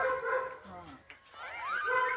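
A dog yelps and whines with a rising, high-pitched cry, mixed in with people talking nearby.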